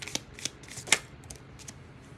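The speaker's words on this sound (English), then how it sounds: "Let me just move these cards." Tarot cards moved and shuffled on a surface, a few quick papery flicks and slides with one sharper snap in the middle, close and quiet with no talk.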